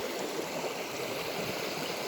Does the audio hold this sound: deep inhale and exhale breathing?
no